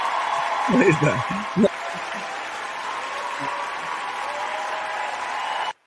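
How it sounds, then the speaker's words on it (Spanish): A played applause sound effect, a short crowd clapping burst that fades into a sustained hum, with a voice briefly speaking over the start. "Espera, espera, que creo que tengo aquí un aplauso estelar."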